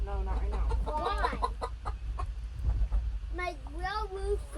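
Hens on a country homestead clucking close by with repeated rising calls, mixed with children's and adults' voices talking over the birds.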